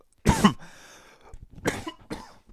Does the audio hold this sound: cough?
yes